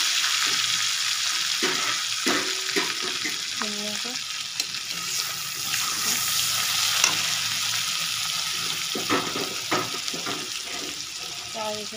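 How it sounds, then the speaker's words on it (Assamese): Mustard seeds sputter and crackle in hot oil as garlic and chili go into the pan for a rohu fish dish, a steady loud sizzle with light stirring clinks and a voice speaking faintly underneath. "মই ইয়াত মানে সৰিয়হ দিম সৰিয়হ ফুটাই দিম তাৰপিছত ইয়াত ৰহুন জ্বলা দিম"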